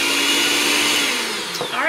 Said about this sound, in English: we're just gonna start dumping in all of our ingredients here, and then we are going to mix it